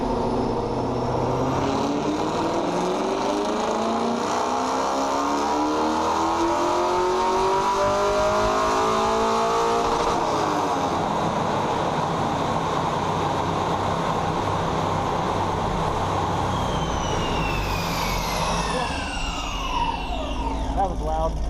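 A Camaro running bolt-on parts on E85 fuel revs hard on a chassis dyno, a loud, sustained engine roar climbing through the gears with rising whine and a sharp high sweep near the end, with faint voices underneath.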